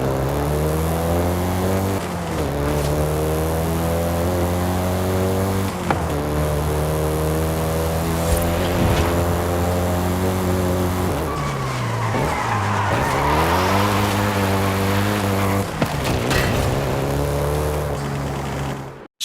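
A Volkswagen Golf GTI is driven hard in Forza Horizon 5: repeated engine revs climb and drop with gear changes, joined by long stretches of tire squeal and skidding, loud and continuous.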